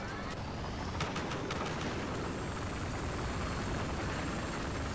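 A helicopter in the video game GTA V gives off a steady, loud rotor whir that holds constant throughout, with a few brief sharp sounds near the start.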